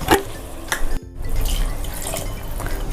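Water is poured into gram flour chutney for idli and dosa, a continuous splashing pour with a brief break partway through, close and fairly loud.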